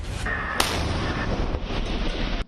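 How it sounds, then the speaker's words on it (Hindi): An artillery cannon fires a shell, giving one sharp crack followed by a rumbling roar that carries on for about two seconds before cutting off abruptly. "जहां ये तोप कैसे दुश्मन के इरादों पर गोले बरसा सकती है, इसका ट्रेलर एक बार फिर देख लीजिए"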